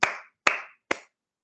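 Three separate hand claps spaced evenly about half a second apart, sharp and close, each followed by a short decay, then silence.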